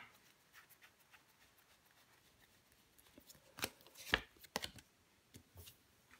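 A tarot card set down over the Hermit card during a reading: a few soft, close papery slaps and brushes, the clearest bursts near the middle, with quiet shuffling between.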